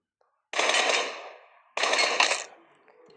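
Explosive bullets fire in a shooter video game, two loud bursts of rapid gunfire each lasting about a second with a short gap between them, heard alone with no talk.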